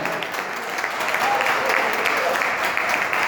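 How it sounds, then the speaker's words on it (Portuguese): A church congregation applauding during a sermon, a steady murmur of clapping with crowd noise and voices mixed in, moderately loud and sustained without clear individual claps. "Vamos aplaudir a Ele."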